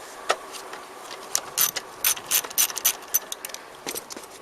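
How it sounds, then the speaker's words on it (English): Ratchet with a deep socket backing out 12mm bolts on a Yamaha Tmax 530 scooter's rear brake caliper, quick bursts of close, sharp clicking pawl strokes in short rhythmic runs, no talking. "So I'm going to take those out and lift off that caliper"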